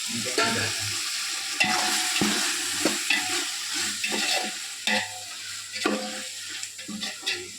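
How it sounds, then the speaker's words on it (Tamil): A spiced tomato masala stirred and fried in a pan, with repeated scraping stirs and knocks over a constant close sizzle, no voices. "மசாலா கலக்கிறோம்."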